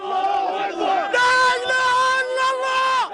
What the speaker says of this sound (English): An angry crowd gathered outside a hospital in Gaza this morning